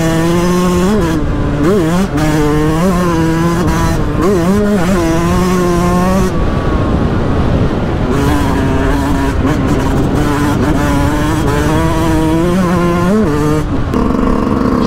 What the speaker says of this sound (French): J'adore le ralenti de cette moto.